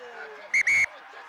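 A referee's whistle at a school rugby match gives two sharp blasts, a short one then a longer one, loud and close over a quiet crowd background.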